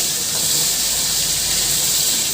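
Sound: hilsa fish frying in oil

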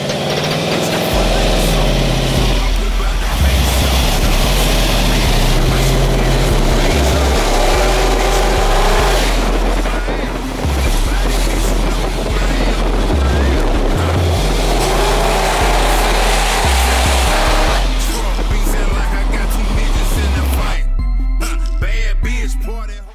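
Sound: supercharged 496 big block engine in 1975 Chevrolet

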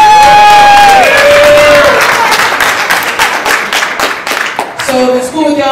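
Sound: wedding guests applauding and cheering

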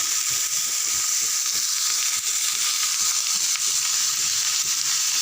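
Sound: vegetables sautéing in pan

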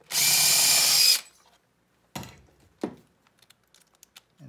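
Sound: power drill pre-drilling a hole

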